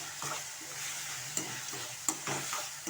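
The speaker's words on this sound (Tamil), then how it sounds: "காளான் நல்லா வதக்கிக்கலாம்." Chopped mushrooms sautéing in a pan for gravy, a soft steady sizzle with a few sharp clinks and scrapes of a spoon stirring, quiet and close.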